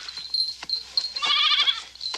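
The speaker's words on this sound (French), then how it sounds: "Tu es une vilaine chèvre." A goat on an Alpine pasture bleats once in a quavering, nasal cry, near and clear, following a few faint rustles and thumps in an animated scene.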